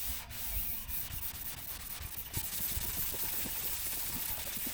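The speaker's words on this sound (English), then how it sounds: "So we sand the top coat today to buff them out." Steady abrasive rubbing as the top coat of a carbon-fibre hood on a 2019 Subaru STI is sanded, a continuous close scratchy hiss with slight strokes throughout.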